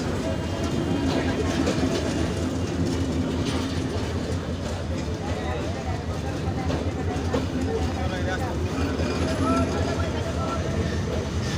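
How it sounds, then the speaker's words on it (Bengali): The Rajshahi Express passenger train rolls past close by in Bangladesh with a loud, continuous rumble and steady clickety-clack of wheels over rail joints, sustained throughout. "রাজশাহী অভিমুখী রাজশাহী এক্সপ্রেস।"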